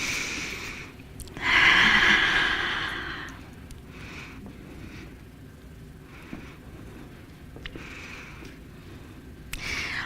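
An audience inhales together in a talk setting, one loud collective breath swelling and then fading into a quiet room with faint stirring.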